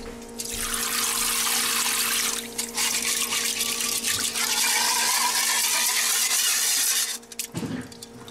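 Oil drains out of a Honda Reflex NSS250 scooter carburetor in a steady liquid trickle and splash, close and continuous, with a faint hum underneath before it tails off near the end.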